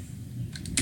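A computer keyboard gives a short run of quick, close key clicks, faint and dry, with no talking.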